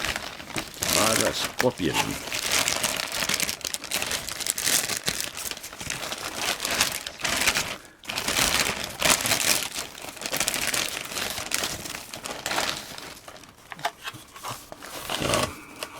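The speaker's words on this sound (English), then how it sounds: "So I'll just carefully rip it open there" Plastic packaging for a Schleich Eldrador Creatures Lava Scorpion toy, catalog number 70142, is ripped open with loud, close crinkling and tearing that runs almost continuously, while someone talks briefly over it.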